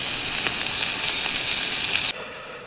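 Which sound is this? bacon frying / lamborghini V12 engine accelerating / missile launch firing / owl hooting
bacon frying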